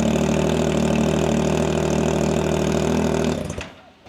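A motorcycle engine fitted with a freshly installed loud aftermarket exhaust runs steadily and close, a thick droning idle that cuts off abruptly near the end, leaving a brief fading tail.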